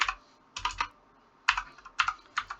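Keys clacking on a computer keyboard while entering an Excel formula: short bursts of a few quick keystrokes, close and clear, with pauses between them and no voice.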